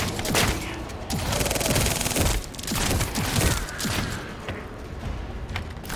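Shotgun blasts and gunfire in the shooter game The First Descendant, a busy run of repeated heavy shots mixed with impacts and mechanical clatter, steady and fairly loud throughout.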